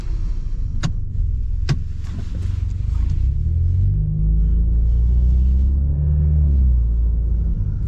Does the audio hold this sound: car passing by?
yes